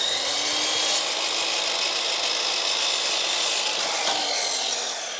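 A power tool, likely a saw, trims a wooden architrave outdoors on a garden room build, one continuous loud whirring cut that runs steadily for several seconds.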